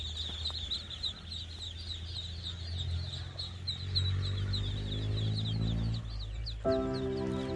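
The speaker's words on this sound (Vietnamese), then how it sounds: "Trang trại vịt." A dense flock of fowl on a duck farm calls continuously at moderate distance, a busy chorus of quacking and clucking over a low hum, with a brighter burst near the end.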